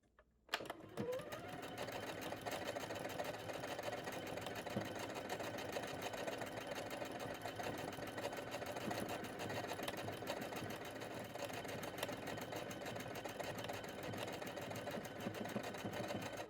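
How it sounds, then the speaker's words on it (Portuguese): A Singer SE9185 sewing machine automatically stitches a buttonhole, starting with a click and then running in a steady, close mechanical whir with a fast stitching rhythm throughout. "a máquina irá iniciar e finalizar a casa de botão automaticamente"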